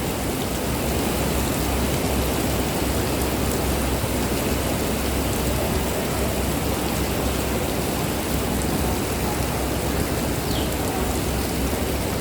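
Steady heavy rain falling during a holiday trip home, a dense even hiss filling the whole stretch with no speech over it.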